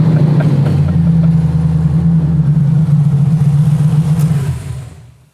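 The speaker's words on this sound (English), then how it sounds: "start the engine" A car with a swapped-in LS V8 engine idles and revs loudly and up close in a workshop, giving a deep, steady rumble that holds for several seconds before cutting off and fading to quiet.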